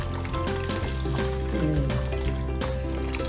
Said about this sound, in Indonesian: Seperti ini, kita saring. Kita saring, kita ambil airnya saja ya.